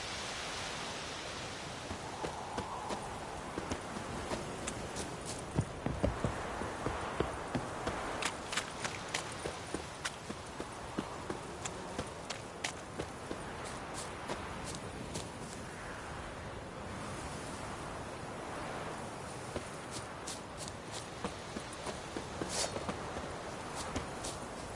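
Roach, the horse in The Witcher 3, runs with rapid clip-clopping hoofbeats over a soft hiss of ambient noise, the steady hoof rhythm continuing faintly for about twenty-five seconds.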